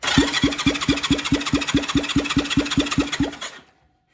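Engine cranking over on the starter during a compression test, a steady loud rhythmic chug of about fourteen even compression strokes over three and a half seconds, then stopping abruptly with no start.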